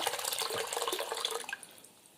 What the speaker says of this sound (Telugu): వాటర్ అయితే పోసేస్తున్నానండి